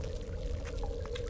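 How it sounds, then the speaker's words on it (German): Water trickles and splashes steadily through a sewer tunnel in the horror game Daylight, a continuous close gurgle over a low droning hum with no talking. "Da plätschert es vor sich hin"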